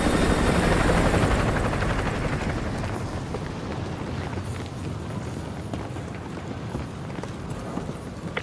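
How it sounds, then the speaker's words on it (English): Enemy helicopter in the MW2 Remastered campaign, a loud rotor thrum and rumble that is strongest at the start, then eases off slightly and stays steady as it patrols, with no speech. "Enemy helo patrolling the perimeter."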